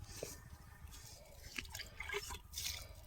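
Water is poured onto a newly planted sapling, giving soft, faint dripping and splashing close by with no voices.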